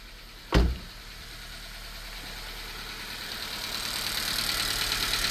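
A car engine with a cylinder misfire idles roughly with a steady rumble and faint ticking, after one sharp knock near the start, the running noise growing slightly louder toward the end.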